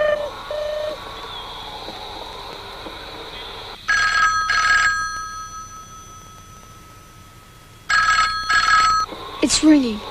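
A telephone rings in two bursts of repeated bell trills separated by a pause, over a low background hum with faint voices.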